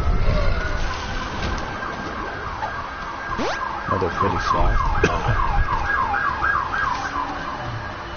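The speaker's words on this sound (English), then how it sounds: "Ambulance going by the house." An ambulance siren passes by outside a house, its wailing tone sweeping up and down continuously and fairly loud over video game sounds and effects, with a few words spoken briefly.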